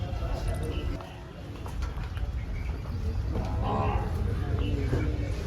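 Deep lowing of water buffalo rises through a busy, noisy outdoor buffalo market crowd in Dhule, with voices chattering around and a louder moo near the end.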